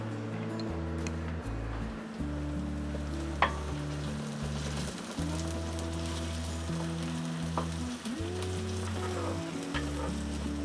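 Anchovies in olive oil sizzle in a pan, a steady crackling fry with occasional sharper pops and light stirring, running throughout under a low hum.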